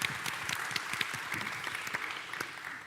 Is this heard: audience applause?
yes